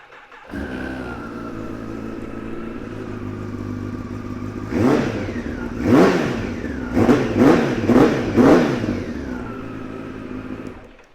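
A 2015 Kawasaki ZX10R ABS 30th Anniversary Edition sportbike starts up and idles steadily, then gets five sharp throttle blips in quick succession near the end before settling back to idle, heard up close with no talking.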